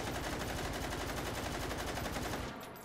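Rapid automatic gunfire from a Czech gun in the VR shooting game Hot Dogs, Horseshoes & Hand Grenades, a dense, loud continuous burst of shots that stops abruptly near the end.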